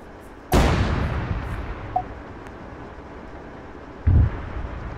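A tank firing its main gun in the video game Arma 3 lets out a heavy, booming blast with a long rumbling tail, followed a few seconds later by a second, duller thump.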